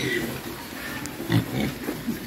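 Pigs grunting and oinking at a Vinh Long pig farm selling lean piglets and gilts, with scattered short grunts over a busy, noisy pen background and people talking nearby.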